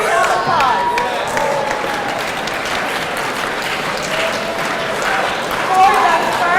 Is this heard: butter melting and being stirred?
no